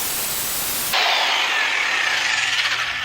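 A power drill with a small bit bores into a hole during a DIY van build; after a second of low hiss, a loud, steady high whine starts and holds with a gently falling pitch, with no talking.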